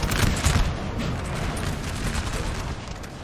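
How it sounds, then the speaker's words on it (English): Musket volleys fired into an enemy flank in the Napoleonic-era battle game Napoleon Total War, a steady crackling roar of massed shots and distant booms, strongest at the start and then rolling on evenly. "Nice flanking volleys here."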